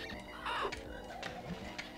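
Cawing bird in the Banjo-Kazooie video game, a short harsh caw over game music and sound effects.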